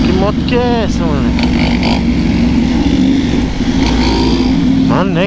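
A motorcycle engine revs loudly and continuously up close, with rising and falling pitch sweeps, while people talk over it throughout.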